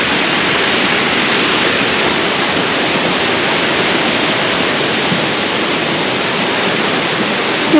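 Water pouring steadily down the side cascades of a waterfall in Michigan, a dense continuous rushing roar that stays loud and even throughout with no voices.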